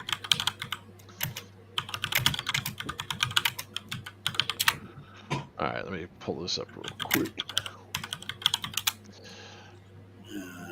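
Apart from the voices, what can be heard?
aggressive typing on a computer keyboard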